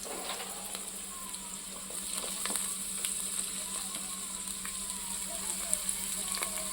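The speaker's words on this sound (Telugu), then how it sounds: "ఇవి కొంచెం మెత్తపడేంత వరకు ఇలాగా నూనెలోనే ఉడకబెడతాను." Carrot and capsicum pieces frying in oil in a pan, a steady, soft sizzle with faint crackles throughout, continuous and fairly quiet.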